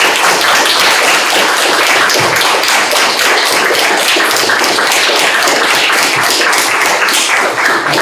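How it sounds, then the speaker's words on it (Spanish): Loud, dense audience applause at an academic lecture event, continuous rapid clapping close by with no break for the whole stretch. "Quero pedir um forte aplauso."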